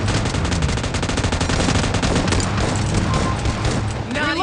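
Rapid automatic gunfire from the video game PUBG Mobile, a loud, dense burst of continuous shots that runs without pause and cuts off near the end.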